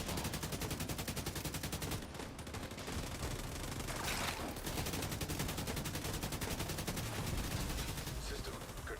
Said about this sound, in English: his sniper rifle hurts